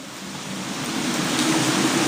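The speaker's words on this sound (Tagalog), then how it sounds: "Umuulan, bumabagyo yata. Hindi man bagyo. Heavy rains lang yan, tingnan mo." Heavy rain during a storm in Boracay, a dense, even hiss of downpour that builds slightly in loudness, continuous and enveloping with no voices.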